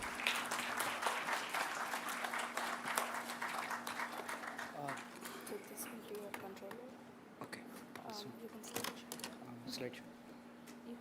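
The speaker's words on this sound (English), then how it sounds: "Let's all encourage them with a big round of applause." Audience applause for a student project team at a technology symposium, clapping that thins out over several seconds into scattered claps, with talking and a steady electrical hum underneath.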